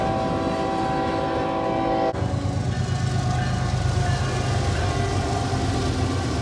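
A Norfolk Southern train rolls through a railroad crossing in Pittsburgh, Pennsylvania, with a loud, steady roar of rail cars. A sustained horn blast fills the first two seconds before the rumble continues alone.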